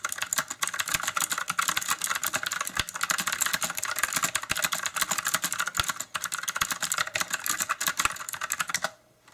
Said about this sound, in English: Doing a quick typing demo here so you can hear the sound of the switches